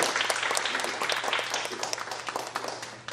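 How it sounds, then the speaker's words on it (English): Applause at a political science conference, with an audience clapping steadily and densely for a few seconds and gradually fading, heard indoors fairly close. "give Francis Lee a big applause"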